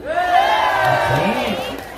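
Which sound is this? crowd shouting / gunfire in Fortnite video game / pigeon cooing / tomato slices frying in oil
crowd shouting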